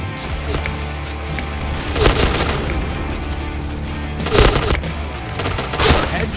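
Gunfire from a T77 rifle in the Point Blank video game, with several dense bursts and sharp loud bangs near the 2, 4.5 and 6 second marks over steady game background noise.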